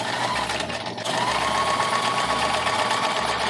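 A sewing machine stitches a fabric lining into a crochet tote bag, giving a loud, close, continuous motorized whir with a brief dip near the one-second mark before resuming steadily.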